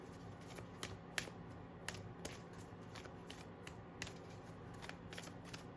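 A deck of cards is shuffled over and over, with soft riffling and quick snapping taps recurring at an uneven rhythm, faint and close against a quiet room hum, without speech.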